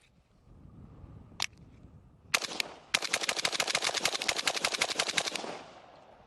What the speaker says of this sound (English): I'm going to fire about 10 rounds in this 8-inch circle here at about 10 yards.